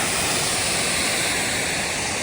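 A waterfall in Iceland roars as a steady, dense rush of falling water, loud and close throughout with no voices.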